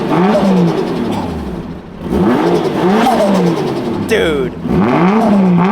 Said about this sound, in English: That 1JZ sounds so good.